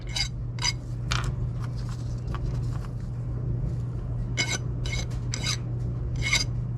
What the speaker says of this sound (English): So yeah, we'll go ahead and get all of these sanded down.